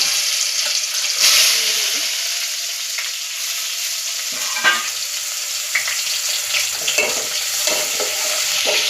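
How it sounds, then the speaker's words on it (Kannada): Hot oil crackles and sizzles continuously as crushed peppercorns and garlic hit the pan for tempering, with sharp pops and a few stirring clinks. "ಈ ರೀತಿ ಒಗ್ಗರಣೆ ಕೊಟ್ಟರು"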